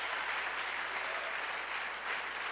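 A church congregation claps in praise during a Spanish-language sermon: an even, continuous spread of applause heard from within the room at moderate level, steady throughout without pauses.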